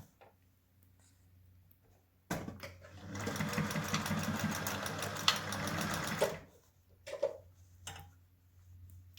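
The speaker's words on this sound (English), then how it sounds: "I'm going to sew around the whole mask" A sewing machine stitches around the edge of a fabric face mask in a dense, fast mechanical whir lasting about four seconds, with quiet handling clicks and fabric shuffling before and after.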